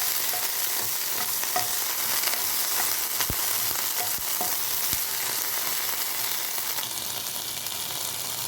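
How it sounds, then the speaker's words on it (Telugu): Tomato pieces and gongura (red sorrel) leaves fry in oil in a pan with a steady, close sizzle, punctuated by a few sharp clicks and scrapes of stirring. "ఇందులో ఇప్పుడు కట్ చేసి ఉంచుకున్న టమాటా ముక్కలు, గోంగూర ఆకులు వేసి బాగా వేయించుకోవాలి."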